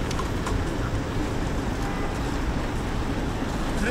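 Riding a scooter with wind rushing past, a steady broadband roar of wind and road noise filling the whole stretch at close range, with faint traffic sounds mixed in.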